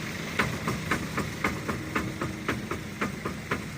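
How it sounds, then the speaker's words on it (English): A Scania 8-wheeler tipper truck's propshaft clunks on its slider while the engine runs, producing a steady, evenly spaced knocking about twice per second over a constant mechanical hum, close by. "That clunking's just the prop whipping round on the slider."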